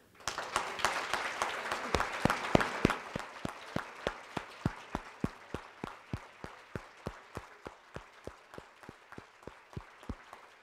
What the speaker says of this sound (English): I would like to have all of our faculty that are in the room tonight just stand and let us applaud you.